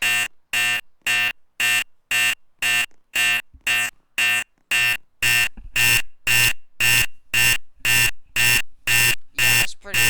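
A 1950s fire alarm system sounds loud, repeated bursts of ringing, about twenty evenly paced pulses that grow longer and merge near the end, with no voices.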